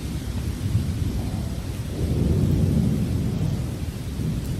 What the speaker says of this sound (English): You can see the lightning strike behind me. It was just relentless. It was pouring rain.